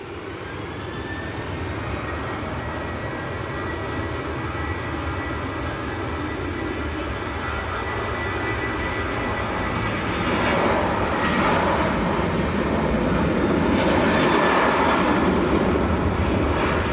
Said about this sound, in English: That was Ryanair to Copenhagen.